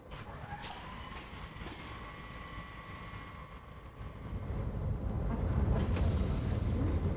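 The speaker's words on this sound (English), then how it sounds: "A final safety check on the brakes, and our train is ready to begin its journey." A Rhaetian Railway train on the Swiss Davos line sits with a steady low rumble and a sustained whine, the rumble growing louder near the end with a brief hiss.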